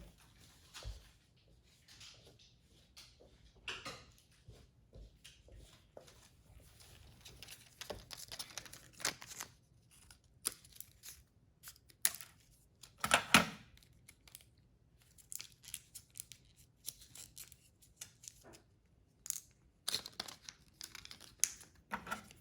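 Close, irregular snipping and crinkling of stiff plastic packaging as scissors cut open a key fob battery package, with tearing and rustling bursts, no talking.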